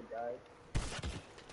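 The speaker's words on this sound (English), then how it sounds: "Gunshots are coming from every direction." Gunfire in the Fortnite video game: a sharp shot followed by a few more quick bursts, moderately loud against a quiet background, with a faint voice at the start.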